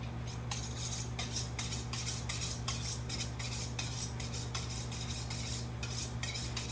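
A sharp knife slices a sushi maki roll filled with ramps, peppers, cucumbers and bonito into angled pyramid pieces, giving a quiet, steady series of short scraping strokes with no talking.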